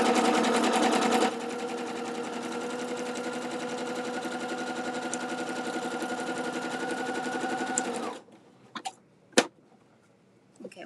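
Sewing machine stitching fabric, a close, steady mechanical whir running continuously for about eight seconds before stopping, followed by a few soft clicks.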